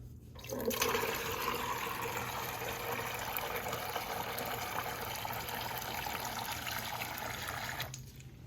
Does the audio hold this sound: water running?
yes